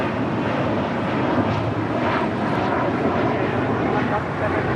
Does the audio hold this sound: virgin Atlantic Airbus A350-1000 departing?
yes